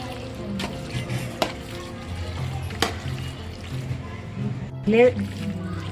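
Potato sabzi with mild Kashmiri red chilli powder is stirred in a pan over a low flame, giving soft scraping and sizzling under steady talking, with a few sharper clinks of the spoon.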